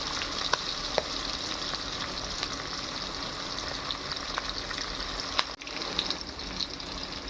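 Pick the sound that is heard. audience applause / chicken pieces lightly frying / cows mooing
chicken pieces lightly frying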